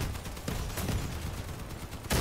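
Dense, noisy bursts of gunfire from armored combat vehicles in the online vehicle battle game Crossout, a continuous close rattle of shots with a sharper blast near the end.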